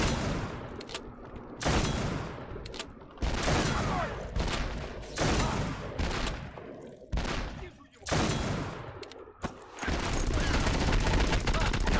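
Rapid bursts of gunfire in an online shooter video game, including shotgun blasts, loud and dense with short gaps between volleys, while players talk over the action.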